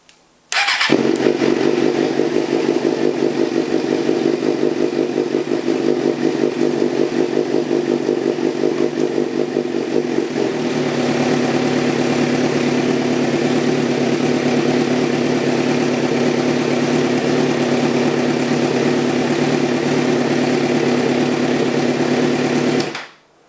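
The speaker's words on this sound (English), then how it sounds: "and I'm going to start the bike." A Suzuki GSXR 600 motorcycle engine cranks and catches, then settles into a steady, loud idle that runs close-up for over twenty seconds, its tone dropping slightly midway before the engine cuts off.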